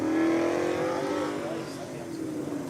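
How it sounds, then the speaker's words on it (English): A Camp C car driving an autocross course, its engine revving loudly up close and then easing off as it pulls away, with a voice talking over part of it. "All right, we've got a Camp C car on the track here."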